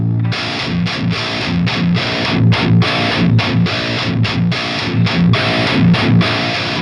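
Distorted electric guitar through a Fortin Kali preamp and Brunetti power amp plays tight, chugging palm-muted metal riffs in rhythmic bursts, loud and up close with no voices.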